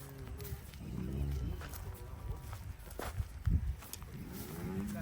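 Dairy cows for sale in Gurdaspur district, Punjab, give several deep moos at close range. Shuffling hoof steps and farmyard bustle run under the calls.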